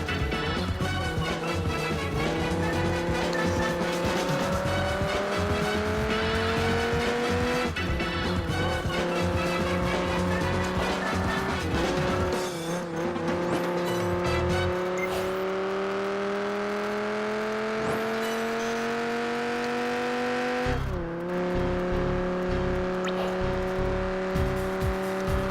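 A race car engine in Project Gotham Racing 4 drones loudly and continuously as it revs high through corners, pitch climbing and dropping with sharp gear shifts, alone without talk.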